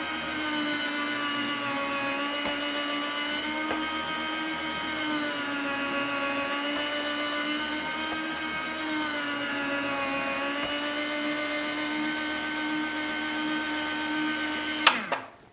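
A meat slicer cutting maple-cured buckboard bacon, its steady motor whir holding even and continuous throughout, with a brief sharp clack near the end as the run stops.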